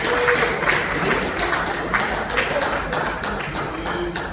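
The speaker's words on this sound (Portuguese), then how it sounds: "louvando ao Senhor com uma salva de palmas" Church congregation clapping together at a Sunday worship service, a dense, steady wash of many hands at moderate distance, sustained throughout with no talking.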